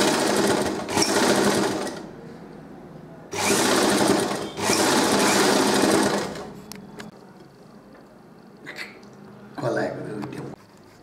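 A sewing machine stitches a nighty in loud, rapid bursts of close, whirring needle rattle, running about two seconds, then about three, then a shorter run near the end, with quiet handling sounds between.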